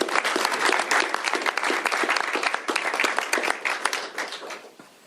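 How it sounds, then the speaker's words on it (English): An audience at a governor's bill signing claps warmly, close and lively applause of many hands carrying on for about five seconds before tapering off at the end. "A round of applause for Representative Fye for his leadership,"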